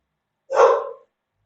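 A single sharp dog bark, close and fairly loud, one short burst standing alone against silence.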